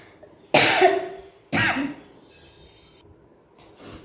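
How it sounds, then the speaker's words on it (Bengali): Two sharp, loud coughs a second apart from a person with a lingering cough, followed by a fainter trailing sound near the end. "আমার কাশিটা না এখনও সেই কমেনি"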